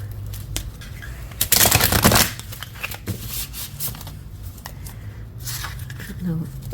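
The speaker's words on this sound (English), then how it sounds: "what's the best way to shuffle this?" A Pastel Journey Tarot deck is shuffled by hand, giving a short, dense papery riffle of about a second in the middle, with a speaking voice and lighter card handling around it.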